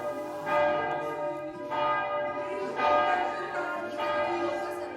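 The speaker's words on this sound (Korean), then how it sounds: "내부 잔디에서 종소리를 들으며 여유를 즐깁니다." Church bell at Mont-Saint-Michel, heard from a grassy courtyard: four evenly spaced, ringing strikes about a second apart, each with a long shimmering hum, soft and somewhat distant.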